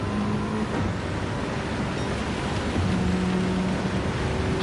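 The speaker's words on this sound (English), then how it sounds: "I can hear the rain." Steady rain hisses in a racing video game, continuous and fairly loud throughout, with a low car engine drone running underneath.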